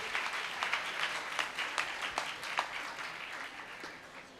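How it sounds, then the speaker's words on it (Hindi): A congregation at a Catholic church ceremony for the coronation of Mother Mary gives moderate applause, with individual claps standing out, steady for several seconds before tapering off. "हम जोरदार तालियों में इनको भी मुबारकबाद पेश करते हैं।"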